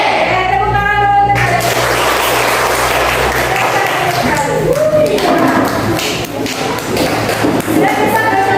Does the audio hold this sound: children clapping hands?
yes